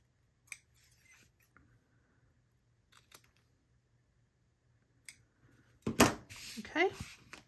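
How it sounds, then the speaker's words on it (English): Scissors trim thread ends on a sewn sander sling, giving a few crisp, spaced snips close by before a voice starts talking near the end. "Now I'm just going to trim off the ends and any strings that I might have."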